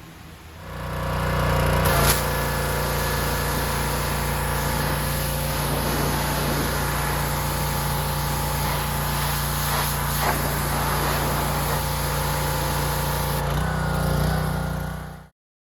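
A 1978 Suzuki GS 1000 motorcycle engine, its carburetors just repaired, runs steadily and loudly at idle for about fifteen seconds, rising in the first second or two and cutting off abruptly at the end, with no talk.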